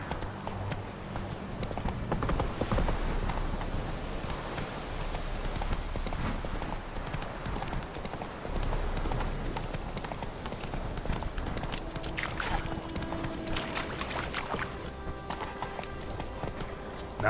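A horse gallops in The Witcher 3 video game, its rapid hoofbeats clip-clopping steadily and loudly for the whole stretch, with occasional snorts and game ambience behind them.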